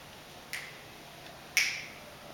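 Two sharp finger snaps in front of a choir microphone during a sound check, one quieter then a louder one, each crisp with a short ringing tail in an otherwise quiet room.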